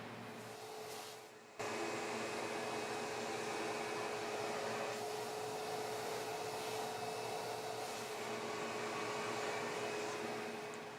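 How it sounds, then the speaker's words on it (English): A vacuum cleaner runs steadily to clean black and red silk filters on each side. A quiet moment is followed by a loud, continuous whooshing drone that holds for about nine seconds. "remove them and gently vacuum them off from each side."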